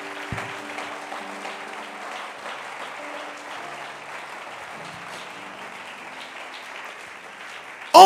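A church congregation applauds together during a sermon, a steady wash of clapping that holds for several seconds at moderate, even loudness.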